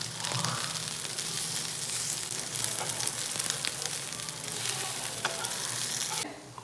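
Patrode, rolled colocasia leaves, frying in a pan give off a loud, dense, continuous sizzle with fine crackling throughout. The sound cuts off abruptly near the end.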